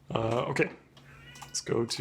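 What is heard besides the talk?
cat yelling in the background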